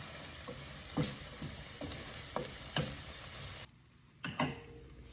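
Sweet chilli relish simmers in a pan, a steady bubbling sizzle broken by a few sharp knocks and stirring scrapes, all close and without voices.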